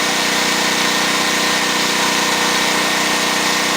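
Small generator engine running steadily after a governor gear replacement, a loud, continuous, even drone close by with no talk over it.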